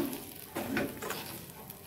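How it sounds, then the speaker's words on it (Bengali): Vegetarian banana flower curry stirred in a pan over a high gas flame, with a steady sizzle and a few sharp scraping strokes of the spoon close up, no voices. "গ্যাসের ফ্লেমটা দেখো আমি জোরে করে দিয়েছি, একটু পরে তখন মিডিয়াম করে দেবো। এখন যেহেতু একটু রস বেশি আছে, প্রথমেই দিলাম, তো আমি এইভাবে এখন নাড়ছি।"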